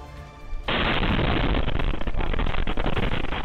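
A sudden loud blast of fireworks going off during a failed disposal operation in Zamboanga City, Philippines, followed by a sustained roaring barrage of crackling bursts and booms.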